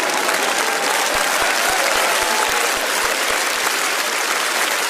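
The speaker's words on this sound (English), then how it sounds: "Round of applause for you guys." A crowd applauds steadily, a dense and even wash of clapping with a rhythmic bass thump pulsing under it.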